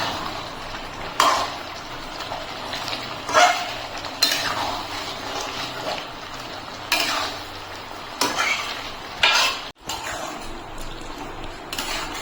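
Ground coriander leaf and cashew paste stirred into chicken for a green coriander chicken curry, with a spoon scraping and clinking against the pan in irregular strokes over a soft sizzle.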